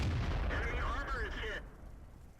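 Tank cannon fire in the World of Tanks video game, with an AMX shelling a house: a heavy booming shot with a rumbling, crackling tail, followed by a quieter low rumble.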